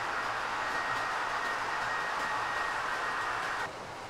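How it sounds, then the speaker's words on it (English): Continuous rushing rumble of a long model train running along track, steady for a few seconds then dropping slightly quieter near the end. "Hell, that's a long train."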